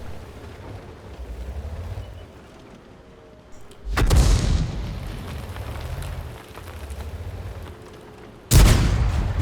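Tank cannons fire in a tank battle video game set in a ghost town, with two loud booming shots several seconds apart over a steady engine rumble.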